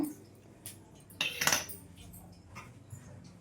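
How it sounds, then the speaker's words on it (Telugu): Ghee and powdered sugar are whisked in a bowl, with a brief burst of metal clinking and scraping against its sides between quieter stretches. "ఇదంతా కూడా మంచిగా మనకి మెత్తగా స్మూత్గా వచ్చేంత వరకు అండి ఇది కలిపేసుకోవాలి విస్కర్తో"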